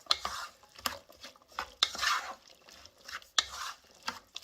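Chickpeas being stirred into asparagus soup cooking in a pot, irregular close scraping and clinking of a spoon against the pan in short bursts over a soft simmer.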